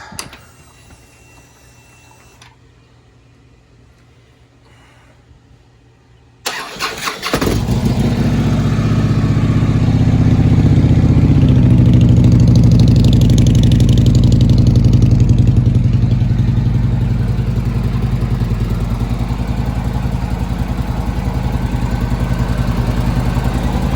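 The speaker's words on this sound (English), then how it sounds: "let's fire this bitch up. Just want to crank her over a bit." A Harley-Davidson Street Glide motorcycle engine cranks and fires up after a quiet moment, then settles into a loud, steady, rumbling idle that runs on, close by, with no talking.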